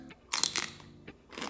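Raw celery being bitten with a loud, crisp crunch, followed by a few quieter chewing crunches and a final crunchy bite, close up and with nobody talking.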